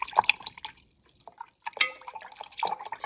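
Liquid drips and small splashes while a little homemade Castile soap is diluted into water, a few irregular drips and taps that come close and clear, separated by brief near-silent gaps.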